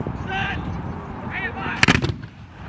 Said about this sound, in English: in order to tell if the volley is good or not, is if it sounds like one shot